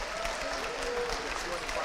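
Applause at a beginning band concert by Mapleton Public Schools Performing Arts, an even wash of clapping from the seated audience over the full stretch, with a faint murmur of voices beneath.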